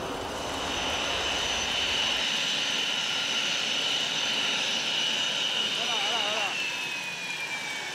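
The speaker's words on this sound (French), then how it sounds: "L'avion se pose sur la piste" Airplane touching down on a runway at night as photographers' flashes go off; a loud, sustained jet engine roar with high whining tones that slowly fall in pitch, steady throughout.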